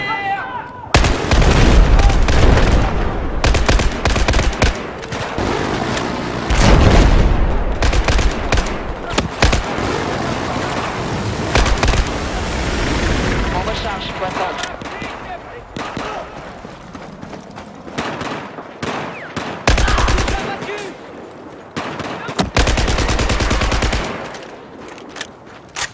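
Heavy, sustained gunfire in the video game Battlefield 4, loud bursts of automatic fire and booming shots in repeated clusters with brief lulls, with battle noise throughout.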